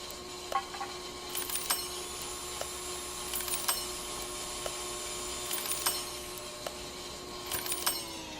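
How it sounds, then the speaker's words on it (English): A video game lathe runs in a steady mechanical drone with a high whine above it, broken by occasional sharp metallic clicks and clatters. "Man, that lathe is noisy."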